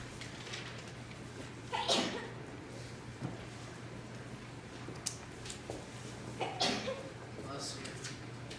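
Two sharp sneezes about five seconds apart in a quiet debate contest hall, each a brief burst over a low steady hum, with faint talk in the room.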